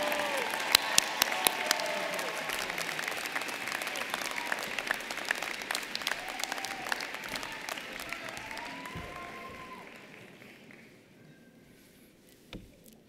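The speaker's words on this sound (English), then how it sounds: "Please give a round of applause to these graduates who have devoted many," Audience applause for doctoral graduates at a spring college of education commencement, a steady, moderately distant wash of clapping from a large crowd that gradually fades out.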